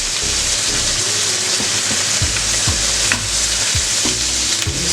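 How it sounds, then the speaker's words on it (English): Roast meat sizzling steadily in hot fat while being basted, a continuous close crackle with occasional soft clinks and scrapes of a spoon, no voices. "what Jerry's doing is actually cooking on the top as well, coating that lovely flavor, or we call it basting"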